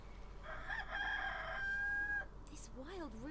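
A wild rooster crows in the video game Haunted, a single drawn-out cock-a-doodle-doo close and clear, followed by a few short clucking calls.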